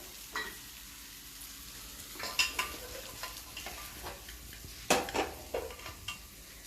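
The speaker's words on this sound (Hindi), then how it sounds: "और अब ये जो हमारा तड़का है हम दाल में डाल देते हैं।" Hot oil sizzles in sharp bursts as the tempering hits the lentils, crackling loudly at first and then settling into a softer fizz.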